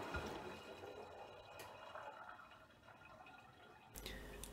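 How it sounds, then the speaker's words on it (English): Beko washing machine filling its drum with hot water during a 90 °C hygiene cleaning cycle: a steady, moderately close rush and trickle of water running throughout, ending with a brief louder splash or clunk. "It's filling up with the hot water."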